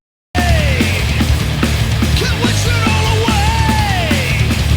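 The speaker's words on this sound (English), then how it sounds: "Immediately you hear melodic guitar harmonies before going into some thrashing guitar riffs." A heavy metal title track opens with melodic guitar harmonies, bending lead lines ringing over a loud, driving band, with a sustained yelled vocal cutting in near the middle.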